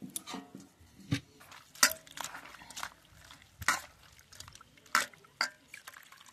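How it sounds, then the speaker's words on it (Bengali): Chopped spinach leaves washed in water: close, intermittent splashes, drips and swishes come in uneven bursts at a soft level. "জলে ভালো করে শাকগুলো ধুয়ে নেব দু তিনবার করে"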